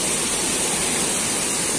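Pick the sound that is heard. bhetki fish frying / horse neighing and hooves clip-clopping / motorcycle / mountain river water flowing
mountain river water flowing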